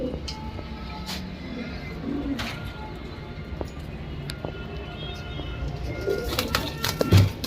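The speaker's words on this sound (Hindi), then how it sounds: "इसमें पंजाबी मद्रासी सभी कबूतर हैं" Punjabi and Madrasi pigeons coo and flutter inside a pigeon shop, their soft calls repeating amid scattered clicks, wing flaps and low background hum.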